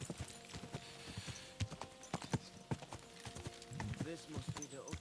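Horse hooves clip-clop steadily in Kingdom Come: Deliverance 2, a brisk close rhythm of hollow knocks, with talk coming in toward the end.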